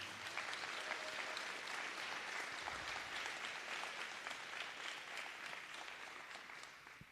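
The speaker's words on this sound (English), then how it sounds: "How about a round of applause just for that alone?" Sustained audience applause at a school football ceremony honoring student athletes, a dense, steady roar of many hands clapping that holds evenly for several seconds and eases only slightly at the end.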